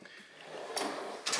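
A Snap-on tool box drawer slides open with a soft metal glide and ends in two quick clacks, close and fairly quiet.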